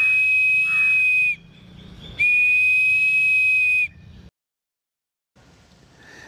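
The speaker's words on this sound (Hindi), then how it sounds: "अब हम जो खड़ी वाली स्ट्रॉ है उसमें से फूकेंगे और एक बहुत जोरदार सीटी की आवाज आएगी।" A homemade drinking-straw whistle blown hard, giving two loud, piercing, steady whistle blasts of over a second each with a short gap between, then a brief breathy hiss before silence.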